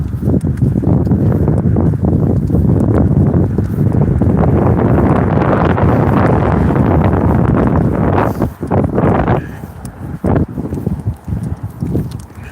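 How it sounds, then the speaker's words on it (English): Strong wind blowing along a road, a loud, continuous roar buffeting the microphone, easing and gusting irregularly near the end. "the wind is definitely blowing up the road here from the west"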